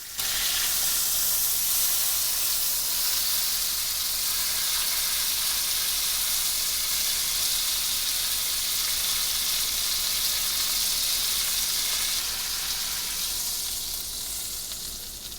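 A cocoa-rubbed steak has its edges seared in a hot oiled pan, giving a loud, steady, close sizzle that holds unbroken throughout and eases slightly near the end.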